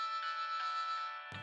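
A mobile phone ringtone plays a sustained, bright electronic tone for about a second and a half, fairly faint and alone, cut off abruptly at the end.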